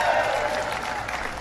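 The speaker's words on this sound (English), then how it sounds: "Give him a big round of applause." Dense, steady crowd applause fills a Labor Day parade rally in Pittsburgh, sustained at even loudness throughout, with no clear speech over it.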